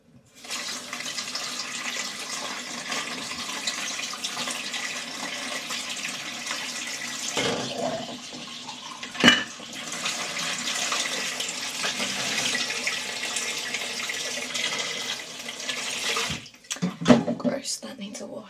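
Tap water runs steadily in a continuous rushing stream while something is washed, with a few clunks and splashes, and a person talks briefly near the end.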